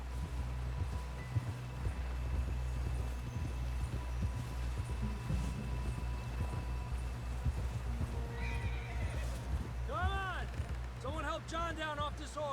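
A horse in the video game Red Dead Redemption 2 trots with steady clip-clop hooves, then lets out several loud, close whinnies near the end over a low ambient background.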